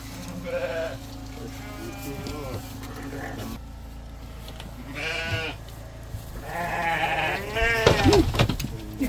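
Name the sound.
sheep bleating on a farm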